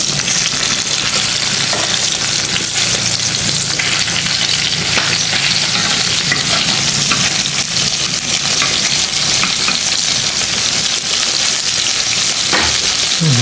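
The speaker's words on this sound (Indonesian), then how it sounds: "Nah, kita goreng asin japuh." Salted japuh fish fry in hot oil in a pan, a loud, dense, continuous sizzle and crackle close up, with occasional scraping of a utensil.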